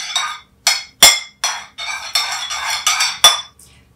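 Two eggs being mixed into apple cake batter for a vintage 1960s recipe: about eight sharp, close clinks and scrapes of a utensil against a bowl in an irregular rhythm, loud and alone with no voice.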